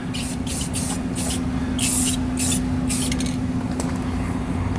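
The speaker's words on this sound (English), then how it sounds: "Now I'm going to go over and spray the other side too." Repeated bursts of hissing spray paint on the underside of an old Ford Ranger pickup, about eight in a row with short gaps, close by over a steady low motor hum.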